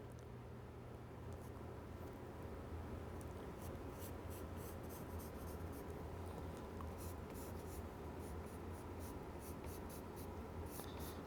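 A pencil sketches lines on paper for a measured layout in soft, close, intermittent scratching strokes over a steady low background hum.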